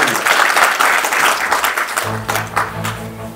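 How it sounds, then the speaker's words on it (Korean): An audience at an inauguration ceremony for a provincial residents' autonomy council chair, held at a cultural center, gives a round of lively clapping that thins out as a low hum comes in near the end. "좋은 말씀 많이 해주신 현장직 기자님에게 다시 한번 큰 박수 부탁드립니다"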